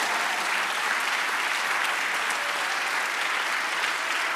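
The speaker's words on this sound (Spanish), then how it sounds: "Aplaudámosle grande al Señor" A church congregation applauds steadily and loudly throughout, a dense continuous wash of clapping with no pauses and no speech over it.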